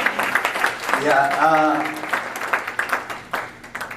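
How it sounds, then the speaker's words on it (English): An audience at a session on innovation ecosystems and entrepreneurship claps in a burst of applause that swells, then breaks into scattered, uneven claps, with a voice speaking over it. "Let us appreciate her in a better way."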